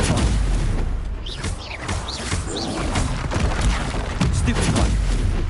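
Spell-casting effects from the Hogwarts Legacy video game, including the Stupefy stunning spell, burst as loud, dense magical blasts and crashes over a constant booming game din, with several whooshing impacts in quick succession.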